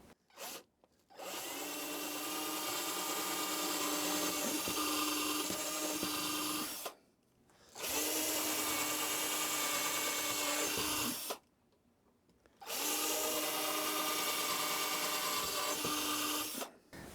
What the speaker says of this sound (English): let's drill holes where we can place mounting screws